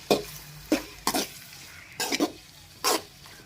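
A spatula stirs and scrapes beaten eggs through torn chapati pieces in a pan for egg vegetable kothu chapati. About five separate, close scraping strokes break up a soft sizzle, with no voices.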